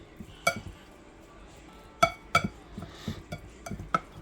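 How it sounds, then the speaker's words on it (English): Ground beef ingredients are mixed in a bowl, producing sparse clinks and taps of a utensil against the bowl, a few sharp knocks with soft scraping between, fairly quiet and close. "I'm going to go ahead and mix this up real good"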